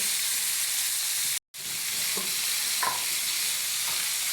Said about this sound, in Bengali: এবার দিয়ে দিব পটল ভাজির জন্য এই পেঁয়াজ কুচি, দিয়ে দিব কাঁচামরিচ কুচি।